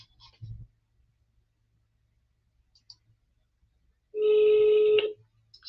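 An unusual phone ringtone sounds once as a loud, steady electronic tone lasting about a second, following near-silence with a brief low thump at the start.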